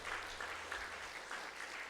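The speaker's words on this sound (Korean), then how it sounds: "우리 박수 한번 쳐주시면 좋겠습니다." A church congregation at a Sunday service claps together, a steady patter of applause heard at a distance and fairly faint throughout.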